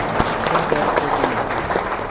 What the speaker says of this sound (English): can we give a round of applause to Dr.